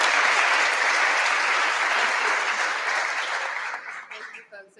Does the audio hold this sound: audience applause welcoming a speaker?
yes